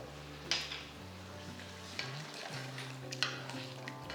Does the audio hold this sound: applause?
no